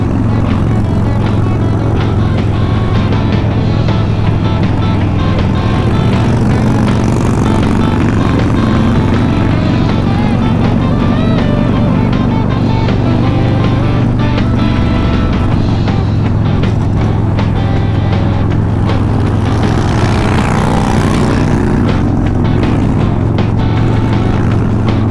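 Motorcycle ride near Squamish, BC, with a loud continuous engine drone and heavy wind rush throughout, the engine note rising and easing slightly as the bike moves along.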